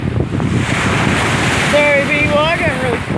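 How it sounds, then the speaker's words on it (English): Waves washing onto the Lake Ontario shoreline in a park, a constant loud surf roar mixed with heavy wind buffeting the microphone, with a high whistling tone drifting through partway. "The waves are awesome down here."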